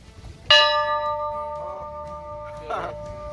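A single strike on an old bell dated 1828 rings out with a bright metallic clang and a long, slowly fading tone, while voices talk quietly nearby.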